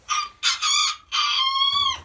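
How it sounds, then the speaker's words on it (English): A full-size rooster crows clearly and loudly nearby, a multi-part cock-a-doodle-doo broken into several bursts and ending in a long drawn-out final note, with no voices. "Now that's a full-size rooster crowing."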